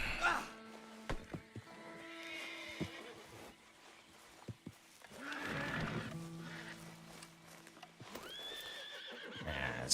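Several loud horse whinnies ring out in the video game Red Dead Redemption 2, spaced apart, with clopping hooves and brief talk in between.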